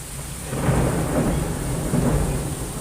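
Heavy rain pours steadily during a thunderstorm in Dhaka, and a deep rolling rumble of thunder swells in after the first half-second and lingers loud throughout, with no voices.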